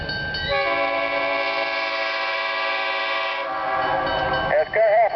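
A loud, sustained Conway Scenic Railroad train horn blares close by for several seconds at Crawford Notch, then cuts out into rumbling and squealing noise.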